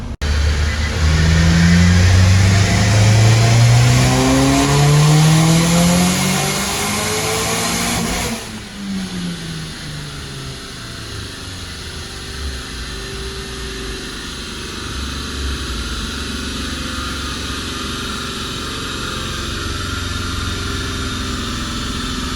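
A boosted Cube car on a dyno at 21 pounds of boost, its engine revving loud and climbing steadily for about eight seconds before cutting off to a lower, steady drone.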